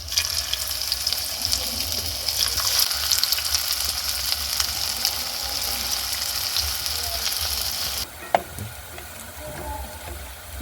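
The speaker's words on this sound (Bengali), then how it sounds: "মাঞ্চুরিয়ানগুলো ভাজা হয়ে গেছে" Cabbage Manchurian balls deep-frying in hot oil give a steady, dense sizzle and bubbling that runs close and loud, easing slightly near the end as something is moved in the pan.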